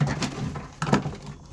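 Pigeons coo softly in a loft, a few low throaty calls close by amid light rustling and shuffling.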